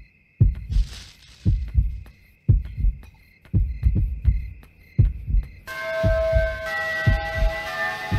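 Heartbeat sound effect from the horror video game Yomawari: Night Alone: loud, close thumping double beats repeating at a steady pace, with an eerie high tone and droning game music underneath.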